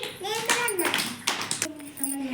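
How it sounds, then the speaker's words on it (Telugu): Children clap their hands in a classroom, scattered claps mixed with kids' and an adult's voices talking and calling out over the clapping. "క్లాప్ కొట్టండి"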